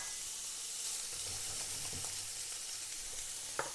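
Diced smoked bacon sizzling in hot oil in a frying pan, a steady close hiss with faint stirring clicks and one brief sharper pop near the end.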